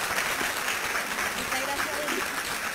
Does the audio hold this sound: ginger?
no